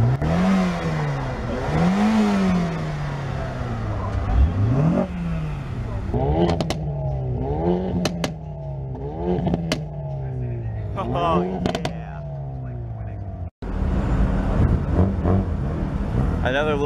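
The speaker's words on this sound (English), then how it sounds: "Can you rev it again?" A car engine revs repeatedly at a crowded outdoor street festival, rising and falling in a series of loud surges over crowd noise and talk, with a brief cutout near the end.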